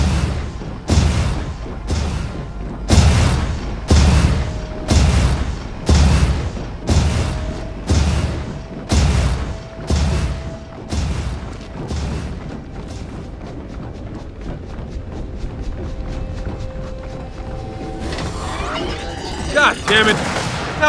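Gunfire and explosions in the video game Gears of War 4: loud, repeated heavy blasts roughly every second for about twelve seconds, then quieter sustained rattling fire and a final burst of noise, with no talking.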